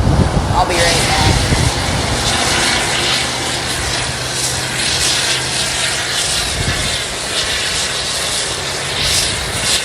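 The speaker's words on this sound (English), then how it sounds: "here is our beautiful A320 that should be fully completing its pushback soon" Airbus A320 airliner at Boise airport during pushback, a steady loud roar and whine of engines heard from the apron, continuous throughout with a person talking over it.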